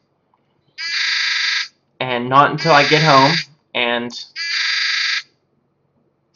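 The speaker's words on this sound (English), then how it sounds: "just going to sit here, sound the alarm" A XenoBot software update alarm sounds as loud electronic buzzing tones in separate bursts, with a person talking between and over them.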